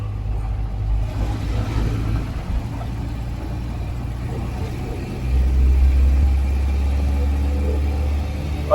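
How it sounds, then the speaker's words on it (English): Thames car pulling uphill in second gear while overtaking a cyclist, a low steady engine rumble from inside the cabin that deepens and grows louder partway through as power builds. "Right, we're in second gear, overtaking a cyclist coming up the hill. Seems to have plenty of power."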